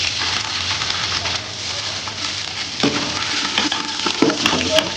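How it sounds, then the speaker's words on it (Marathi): Curry leaves drop into hot ghee and oil in a pan, setting off a loud, crackling sizzle with stirring scrapes that stays busy throughout. "आता त्याच्यामध्ये आपण कढीपत्ता टाकूयात"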